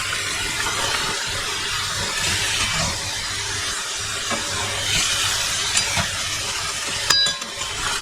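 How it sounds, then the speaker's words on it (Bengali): Chicken rezala ingredients frying slowly in a pan in a Kolkata-style home kitchen, a continuous soft sizzle and hiss with faint stirring scrapes throughout. "এগুলোকে আস্তে আস্তে ভাজতে হবে।"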